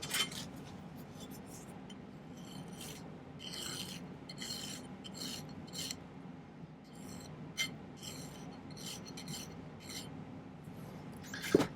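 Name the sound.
filing the end of silver bezel wire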